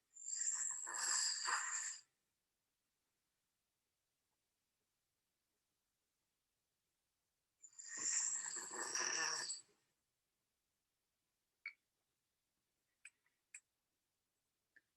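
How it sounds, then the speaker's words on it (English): Sawyer, a sleeping dog, gives two loud, rasping snores about six seconds apart, each lasting around two seconds, followed by a few faint, brief ticks. "let's play the video and hear Sawyer's snoring"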